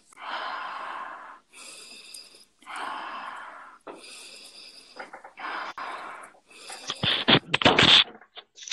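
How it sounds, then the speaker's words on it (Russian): A person breathes deeply during a psychology consultation: slow, close, airy inhales and exhales in an even rhythm, then a burst of sharper, louder breath sounds at the end. "Ты дыши глубже."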